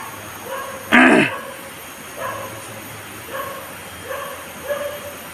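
A dog gives one loud, close bark, then a few fainter, spaced yips and whimpers over quiet outdoor ambience.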